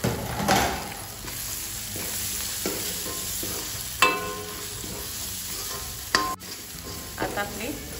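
Spices and tomato frying in a pan for pav bhaji, with a steady low sizzle under repeated scraping strokes of a spoon and a few sharper clanks against the pan, no talking.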